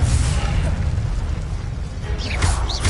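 A fire spell, Incendio, cast in Hogwarts Legacy on PS5 erupts as a loud, roaring burst of flame that sustains for about three seconds, with sharper crackling flares near the end.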